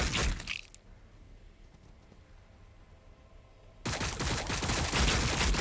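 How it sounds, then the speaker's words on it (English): Rapid gunfire bursts from the video game Warhammer 40,000: Battlesector, loud at the start, fading to a quieter battle lull, then returning as dense continuous firing. "Under fire. We're still going to attract some shots."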